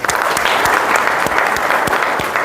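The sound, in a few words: crowd applauding at community gathering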